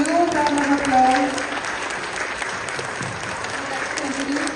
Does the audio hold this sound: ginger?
no